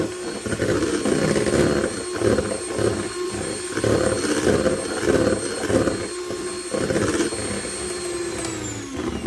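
An electric mixer whips cream at higher speed, giving a loud steady motor whir with rhythmic fluctuations as the beaters churn, close up and with no talking.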